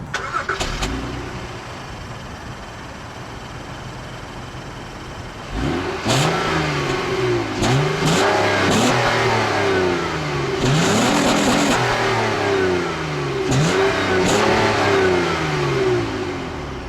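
A 2014 Acura MDX SH-AWD with a 3.5-liter direct-injection V6 starts up and then accelerates hard through several gears, each rising engine pitch broken by short shift gaps, loud and close, with no talking.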